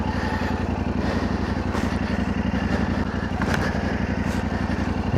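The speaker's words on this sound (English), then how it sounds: "this T7, what a great bike to be riding up here" Steady, loud engine drone of a T7 adventure motorcycle ridden through a nature reserve, a continuous throbbing hum with faint clatter on top throughout.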